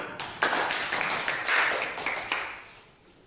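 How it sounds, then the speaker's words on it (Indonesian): Classmates clap for the winning group in a classroom, a short burst of scattered, uneven hand claps from a small group that fades out after a few seconds. "Silakan tepuk tangan."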